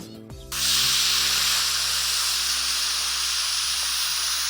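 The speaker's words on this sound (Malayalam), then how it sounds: "ഇറക്കിയിട്ട് നമുക്കിതിൻ്റെ വിസിൽ കളയാം." A pressure cooker of chena payasam, made with yam and lentils, vents its steam after a short clunk. A loud, steady hiss then continues unbroken for several seconds, close by, with no talk over it.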